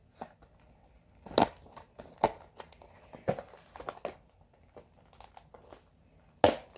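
Plastic wrapping crinkles and crackles in irregular bursts, close and fairly loud, with sharp crunchy peaks between quieter rustling.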